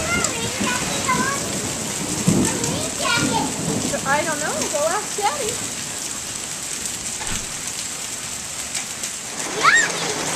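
Steady rain falls as a constant hiss outdoors, with children chattering and playing and an adult answering over it, the downpour continuing beneath the voices throughout.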